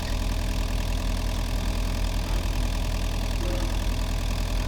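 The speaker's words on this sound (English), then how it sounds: "I'll have to stop the engine so that I can see what I need to do" A diesel generator set with a low-voltage fault idles in a steady, dense drone, close and constant throughout, with no talk over it.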